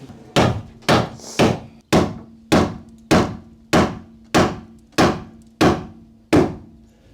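Eleven sharp, evenly spaced hammer blows knock a piece of timber into place against a bracket while lining a 1975 Viscount Amba caravan, each a solid thunk with a short ringing tail.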